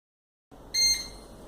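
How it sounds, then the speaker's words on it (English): A sublimation heat press for magic mugs signals the end of its cycle with a short, clear electronic beep after a moment of silence, followed by a second brief beep. "When the press beeps,"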